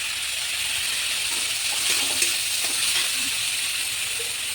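Boiled chicken seasoned with salt and black pepper powder fries in a pan, producing a steady, even sizzling hiss with a few faint pops and clinks over several seconds.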